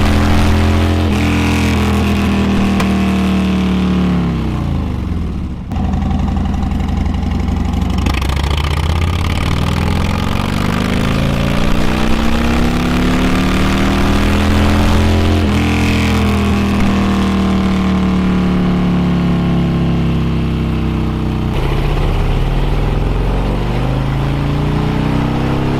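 Harley-Davidson 107 Milwaukee-Eight motorcycle engine running a baseline pull on a dyno, a loud steady roar with rising and falling harmonic sweeps as revs climb, a brief dip near the middle, then another long climb; no talking.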